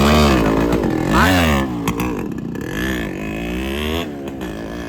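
A Yamaha RX100 motorcycle pulls away, its engine revving up and then settling into a steady note as it rides off, loud at first and easing slightly toward the end.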